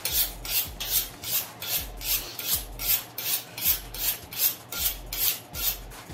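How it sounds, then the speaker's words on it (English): A knife is sharpened with steady, rhythmic rasping strokes, about two per second, close and evenly spaced, with no talk over them. "We'll sharpen this knife."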